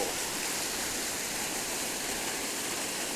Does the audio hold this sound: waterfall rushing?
yes